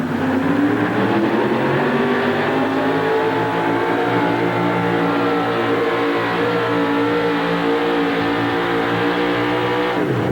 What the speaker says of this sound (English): These big injected Chevrolet engines are going to come to life.